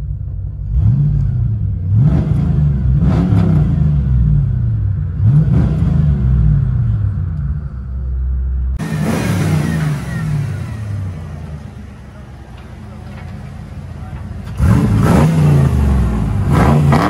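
A 1991 Ford Mustang 5.0 V8 with a true dual straight-pipe exhaust revs in loud, repeated bursts over a deep idle rumble, then holds a longer rough, raspy run before one last surge.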